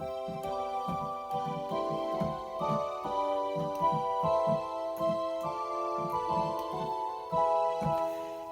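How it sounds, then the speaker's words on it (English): An electronic organ plays with a 4-foot flute stop added, sustained bright chords over a bouncing pedal bass pulse, steady and close with no voices. "if I add it with a 4-foot flute"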